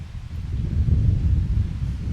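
Strong wind at a wilderness lake in the Debsconeag Lakes area, a steady low roar and buffeting that rumbles against the microphone, with no voices.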